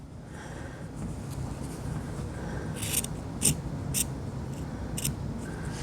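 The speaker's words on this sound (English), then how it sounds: "You're going to clip so far into that corner." Scissors snip into the fabric corners of a sewn clear face mask, a few short crisp clips spaced apart over a steady low room hum, close and fairly faint, with no talking.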